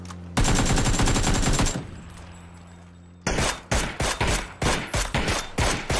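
Gunfire in the video game PUBG: a sustained loud burst of automatic fire, a pause, then a series of sharp separated shots in quick rhythm, close and dominant with no talk.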